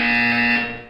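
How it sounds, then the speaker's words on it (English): A steady electronic buzzer tone from the video game Portal 2, a loud sustained alarm-like drone holding evenly for about a second before fading slightly at the end, with no voices. "When you hear the buzzer, look down at the floor"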